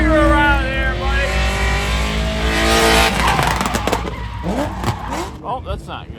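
A drift car skids with a loud, sustained tire squeal over its roaring engine, then breaks into rougher scraping and engine bursts, with voices talking nearby.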